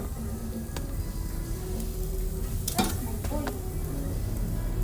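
Chicken wings fry in a pan with a steady, soft sizzle under a few clinks and scrapes of stirring, including one louder utensil clatter partway through.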